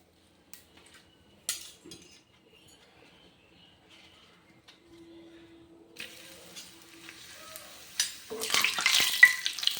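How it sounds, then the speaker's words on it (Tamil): Papad crackles and sizzles faintly in cooking oil at first, then a bright, dense frying hiss swells near the end, with a few clinks of utensils. "அப்பளம் பொரிச்சிட்டோம் பாருங்கள்."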